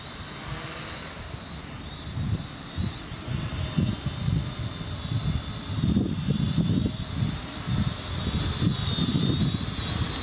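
A small 258-V drone flies outdoors, its steady high-pitched motor whine holding through the clip over low, rumbling wind-like noise.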